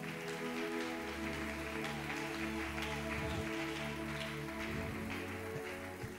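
A church congregation applauding to acclaim the Lord: soft, steady, rain-like clapping that runs throughout, under sustained background music.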